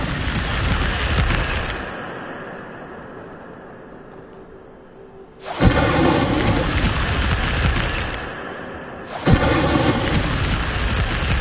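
Incendio fire spell in Hogwarts Legacy erupting in loud whooshing, crackling bursts: one sustained blast that fades, then two more roaring flares starting abruptly, each rich and full-bodied and close.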